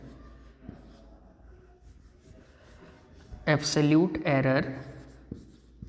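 A pen scratches across paper while an equation is written by hand, with soft, steady strokes close by. Someone speaks over the middle section.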